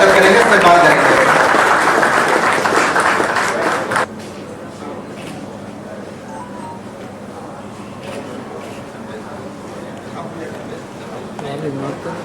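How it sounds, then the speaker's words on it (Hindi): An audience claps loudly and steadily to welcome guests onto the stage at a bank financing event, the applause cutting off sharply after about four seconds, followed by quieter room sound. "एक बार जोरदार तालियों से हम उनका स्वागत करेंगे"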